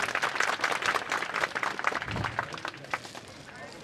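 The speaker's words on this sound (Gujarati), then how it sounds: "તાળીઓ પાડશે." An audience clapping at a Gujarati folk dayro gathering in a village, a dense patter of hands mixed with loud talk over a public address, fairly distant and steady.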